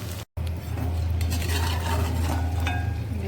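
Stuffed green chillies, Konkan style, are sautéed in a pan, with a loud close stirring scrape over a steady sizzle after a brief gap at the start.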